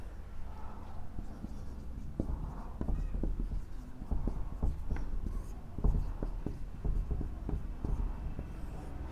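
Chalk or marker writing on a board in a class-12 chemistry lecture on crystalline and amorphous solids, a string of short tapping strokes and scratches at moderate distance, with a teacher's voice speaking intermittently.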